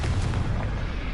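Confringo explosion spell in Hogwarts Legacy, a fiery blast rumbling steadily through a short burst, loud and low-heavy with no speech.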